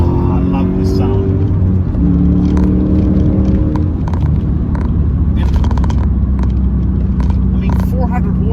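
A manual Porsche Panamera S with a 400-horsepower V8 engine rumbles steadily up close on a winter day, its low exhaust drone shifting in pitch as the revs change, with faint clicks above it.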